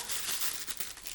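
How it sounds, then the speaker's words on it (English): Sheet of paper crushed and crinkled by hand for a rainforest mural, a short continuous close rustle with no voices. "Crumple it up and stick it down."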